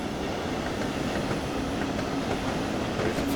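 An ICE high-speed train running between Riesa and Dresden in the game Train Sim World 2, a steady, continuous rolling rumble with a faint high hiss throughout, close and even in level.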